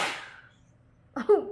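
A single sharp sneeze bursts out at the start and fades quickly, followed by a moment of quiet and then a brief voice.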